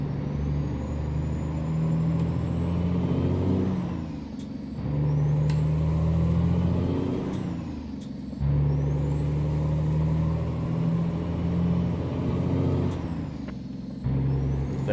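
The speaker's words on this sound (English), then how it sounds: "That turbo spooling up and down sounds so good." Kenworth W900 custom truck in American Truck Simulator, its engine droning loud and steady while the turbo whistle rises and falls in repeated cycles, broken by short air brake hisses between pulls.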